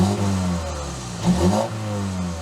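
A BMW 220i Gran Coupe M Sport with a twin tip exhaust idles close by, then revs once in a short, fairly subtle rise and falls back to a steady idle.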